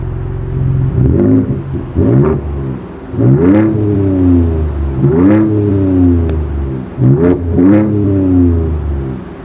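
The dual exhaust of a 2024 Ford Ranger Raptor rises and falls through about five sharp revs from a steady idle rumble, loud and close with no talk.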